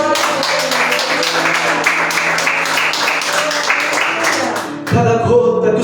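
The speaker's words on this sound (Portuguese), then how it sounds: "Pode aplaudir o Senhor." Church congregation applauding loudly and steadily for several seconds, a dense wash of clapping that ends abruptly as a preacher's amplified voice resumes.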